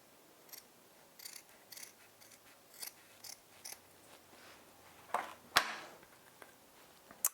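Scissors trimming scrap pieces for a homemade wooden car window camera mount: scattered faint snips and clicks, then a louder sharp cut near the end, close and quiet.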